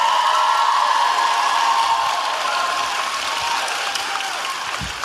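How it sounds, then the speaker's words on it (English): Live podcast audience in Orlando applauds steadily, a dense wash of many hands clapping that fades slightly toward the end, with no speech over it. "Healthy applause."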